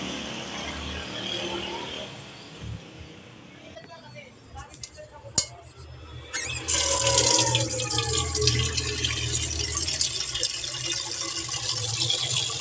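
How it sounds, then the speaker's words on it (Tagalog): Water poured and running into a welded aluminum cooking pot, a steady close splashing stream that starts abruptly after some clatter and continues to the end. "lagyan natin ng tubig para siguraduhin natin na natakpan yung butas"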